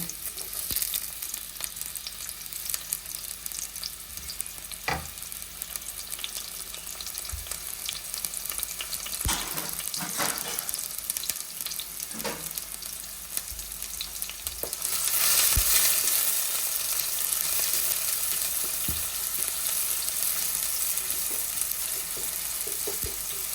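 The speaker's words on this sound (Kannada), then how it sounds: "ನೀರುಳ್ಳಿ ಒಳ್ಳೆ ಫ್ರೈ ಆಗಬೇಕು." Onions fry in coconut oil in a pan with a steady close sizzle, broken by a few clacks of a stirring spoon and a louder crackling surge midway, with no talking.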